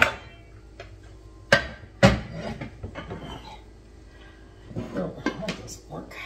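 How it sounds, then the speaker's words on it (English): Glass and ceramic baking and casserole dishes set into a lazy Susan kitchen cupboard, with two sharp clinks and knocks early on, then scattered clatter and shuffling that builds again near the end, close by. "And I'm gonna put the baking dishes."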